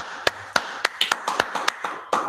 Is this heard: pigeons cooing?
no